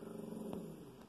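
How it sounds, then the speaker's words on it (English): A dog growls at someone outside, a low, steady rumble heard faintly and at a distance within an indoor room, with no voices over it. "my dog growling at somebody outside"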